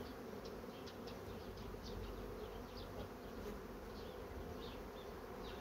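Dense, continuous buzzing of many honeybees at an open hive close by, a steady hum with brief higher whines of individual insects flying past.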